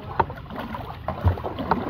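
A small boat moves on open water near oyster harvesting grounds, with low rumbling hull and water noise, wind buffeting the microphone, and a few soft knocks recurring through the scene.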